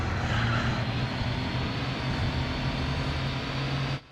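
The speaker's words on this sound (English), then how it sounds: "On PSX, it's a forgotten footnote of a simcade game where a V12 sounds like this." V12 car engine from the PlayStation racing game Sports Car GT, a steady droning hum held at constant pitch for about four seconds, then cutting off abruptly.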